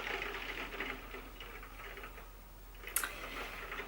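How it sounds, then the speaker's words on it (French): Rain falling on a Velux roof window, a faint steady patter with light irregular ticks and one brief sharper tap, heard indoors with no talking. "il pleut."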